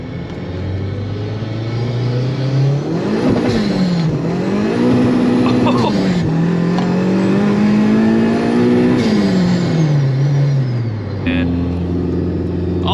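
An eighth-generation Honda Civic Si tuned to 400 hp with header and exhaust, loud in-cabin engine note climbing through the revs, shifting with brief dips, then climbing again on a run toward 8,000 rpm.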